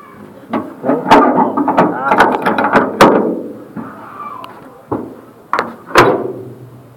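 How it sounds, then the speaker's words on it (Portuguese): A door of a Mercedes-Benz 1519 truck being shut, with several loud clunks and thuds close by amid handling noises while someone talks. "Deixa eu fechar a porta aqui."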